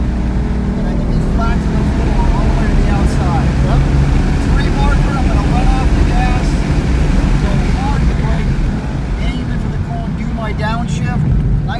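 Ford GT race car engine on a racing track at a driving school, a loud steady roar held at full throttle throughout, with a voice talking over it.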